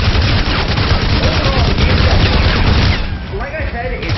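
Gunfire and explosions rage through a combat stretch of the video game Crysis, with soldiers pushing against a line of KPA defenses and grenades in use; dense, loud booms and rapid shots run continuously and ease slightly near the end.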